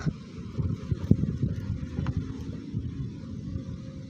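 Low, blustery rumble of wind buffeting the microphone at a memorial garden cemetery, gusting unevenly with a few sharp thumps, no voices.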